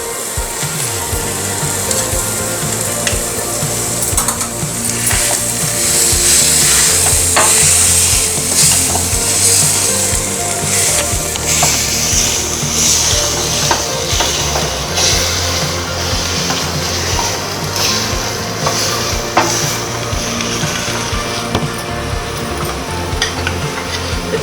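Spiced boiled potatoes with chili powder are mashed for aloo chop, a steady close scraping and stirring sound that runs continuously with a faint sizzling hiss throughout.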